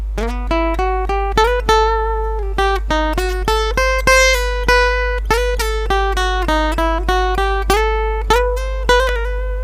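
Dry lead guitar with no reverb, playing a melodic line of distinct plucked notes in a steady rhythm, each note ringing briefly before the next, clear and close with no room tail.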